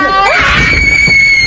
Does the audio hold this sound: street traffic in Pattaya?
no